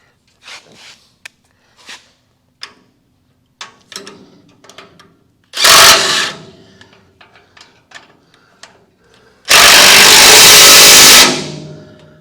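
A wrench at work gives sparse, close metallic clicks and ratcheting ticks in short irregular bursts, broken twice by loud, rough, hissing blasts of noise, with no one talking.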